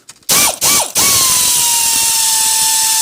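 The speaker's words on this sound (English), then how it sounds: "Air ratchet makes things faster." Air ratchet loosening a transmission mount bolt on an AMC Eagle: two short loud whirring bursts, then a long steady high-pitched whine as the tool runs continuously, close by.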